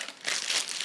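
Plastic wrapping crinkles and crackles steadily as it is pulled open from around a cooked black bean and potato seitan roast, close and continuous for under a second with no talk.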